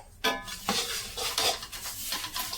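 Sesame seeds stirred into a sticky mixture in a pan off the heat, a spoon scraping and clinking against the metal in short, irregular strokes, close and fairly quiet.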